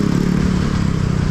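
A light, fuel-efficient everyday motorcycle engine running close by, a steady throbbing rumble with a rapid pulsing beat and no voices.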